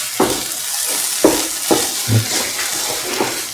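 Spinach stew with turmeric is stirred in a pan, producing a steady sizzle broken by several distinct scraping strokes of the spoon at an uneven pace, close up and with no talking.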